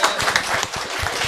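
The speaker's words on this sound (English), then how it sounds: "Applause for the moderator," An audience at a foreign policy outlook forum claps for the moderator, a brief patter of mixed handclaps with no voices over it.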